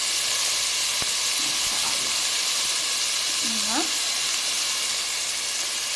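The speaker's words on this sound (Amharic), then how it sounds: "እዚህ ጋር እንግዲህ የሁሉ ማጣፈጫ የሆነውን ሽንኩርት እንጨምራለን ማለት ነው።" Chopped onion fries in hot oil in a cooking pot, a dense, steady sizzle and hiss that runs unbroken throughout, with a brief faint voice-like tone partway through.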